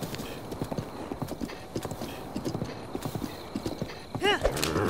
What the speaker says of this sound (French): C'est pas le cheval le plus rapide, mais il a de la puissance, de l'endurance.